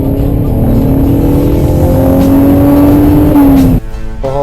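A BMW 528i E39 drives on the road, its engine note heard from inside as a smooth, steady hum that climbs in pitch through acceleration, then drops abruptly as it eases off.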